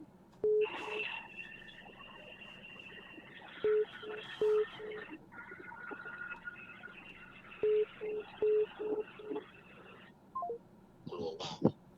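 Telephone line tones sound as a new call comes in to a Thai radio call-in program: short, loud, evenly pitched beeps in bursts over a steady background hum, with a final cluster of tones near the end.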